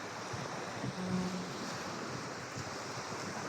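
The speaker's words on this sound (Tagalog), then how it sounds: "Ayan yung dagat." Sea waves wash steadily onto the shore at a seaside in Fahaheel, Kuwait, a continuous broad rushing surf mixed with wind noise on the microphone, with no voices.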